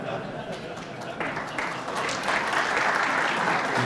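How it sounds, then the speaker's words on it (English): Light ripple of applause from a snooker crowd during a World Championship semi-final, a steady patter of clapping that swells slightly toward the end, with no talk over it. "he got a little bit of applause there, a ripple"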